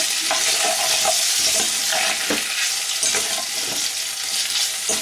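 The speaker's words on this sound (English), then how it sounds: "and give it a stir" Sesame beef stir-fry with toasted sesame seeds is stirred in a hot pan, giving a steady loud sizzle broken by scraping utensil strokes, with no talking.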